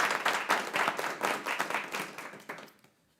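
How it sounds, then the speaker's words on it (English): An audience at a regular meeting breaks into applause, a close, dense burst of many hands clapping that holds steady for a few seconds before tapering off to quiet. "Let's give her a round of applause."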